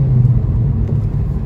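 A 2008 Honda Civic Si Mugen sedan engine hums steadily from inside the cabin while driving, a low, even rumble around a gear change into third, with no talk over it.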